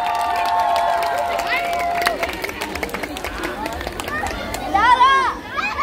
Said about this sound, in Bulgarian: Аплодисменти за Вили, дами и господа.